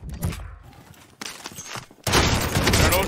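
Rapid bursts of gunfire from the Call of Duty Warzone video game, loud and close, with a dense sustained volley in the final second after shorter shots earlier.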